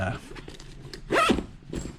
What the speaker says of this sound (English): it tends to get caught on the zipper as I'm zipping it